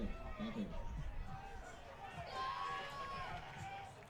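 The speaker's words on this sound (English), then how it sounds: "you start to hear this Shrewsbury crowd getting rowdy" A rowdy Shrewsbury crowd at an American Legion regional baseball game, distant cheering and chatter with whistles, faint and diffuse under nearby voices.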